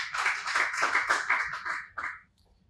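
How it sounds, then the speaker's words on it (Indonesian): Small studio audience clapping for Indonesian surfer Rio Waida, a brisk burst of close hand claps that stops abruptly after about two seconds, followed by near silence. "Tepuk tangan buat Rio Waida."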